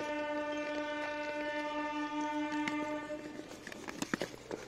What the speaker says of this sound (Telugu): Vijayawada railway station